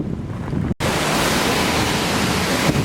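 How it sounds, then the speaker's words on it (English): A roaring waterfall in Iceland rushes as a steady, loud broadband wash, close by and unbroken, with a brief dropout near the start and no voices. "So there's a beautiful waterfall back here."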